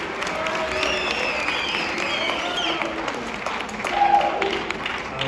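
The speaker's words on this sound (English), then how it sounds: "so please give them a round of applause for that" Sustained, steady applause from a school assembly audience honouring a state championship team, a dense wash of clapping with a brief swell near the end, with faint voices mixed in.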